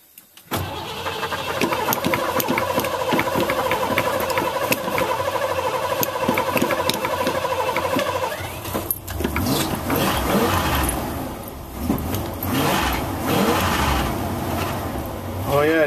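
A 1987 Ford F350 truck cranks and fires on a cold start, then settles into a loud, steady, slightly fluttering idle close by, with the engine rumble continuing throughout.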